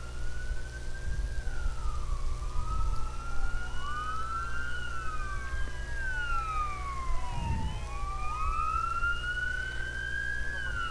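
An ambulance pulls out of a station across the street from a ballpark, its wailing siren sweeping up and down continuously at moderate distance over a low rumble of traffic.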